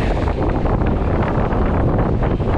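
A strong, steady wind of 18 knots roars across the microphone on a sailing boat in icy weather, a dense, unbroken rush that fills the whole scene at close range, with no voices.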